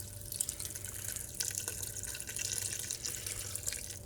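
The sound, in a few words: buckets filling up with sugar kefir liquid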